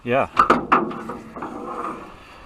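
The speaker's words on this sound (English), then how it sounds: "You can open the door if you want." The door of an old vintage Ford mud truck, cut down and rebuilt, creaks and clunks open with a few metallic scrapes and knocks, close by, after a short voice at the start.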